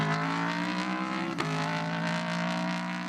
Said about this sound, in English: Great acceleration from all of these cars out of that final chicane towards that last corner